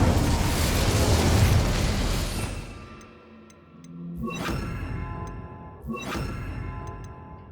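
An Incendio fire spell cast in the Hogwarts Legacy video game, heard as a loud roaring whoosh of flame that fades out, followed by two sharp bursts with ringing, chiming tails.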